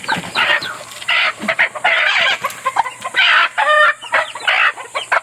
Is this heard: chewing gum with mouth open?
no